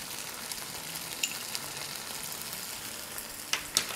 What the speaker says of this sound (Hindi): ये देखिए अब कैसे तरी ऊपर आ गई, ये बबल कर रहा है